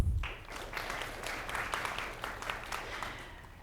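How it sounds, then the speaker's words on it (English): Audience applause at a university grad student speaking competition, a dense, steady wash of many hands clapping that starts abruptly and continues evenly throughout. "We can clap for him."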